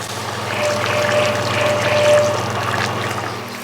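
Water poured from close by into a thick aubergine bhajee curry paste in a pan, cooked BIR Indian restaurant style, giving a steady splashing pour over a low background hum for a few seconds.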